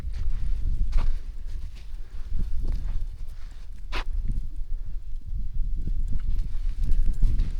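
A colt being ridden walks with steady hoof clip-clops on the ground, continuous and fairly close, with soft ambient rumble and a few louder thuds mixed in.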